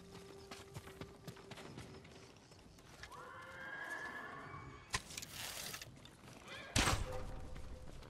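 Horses neigh and whinny near a stable in the video game Ghost of Tsushima, with soft hoof clip-clops and thuds underneath; the whole scene is quiet and distant.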